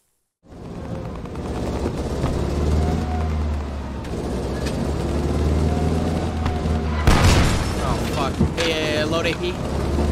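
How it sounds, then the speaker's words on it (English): Panzer tank cannon shot in Post Scriptum, a loud sharp boom partway through with a rumbling tail, set over a steady engine drone and distant battle noise. "It's a panzer shot"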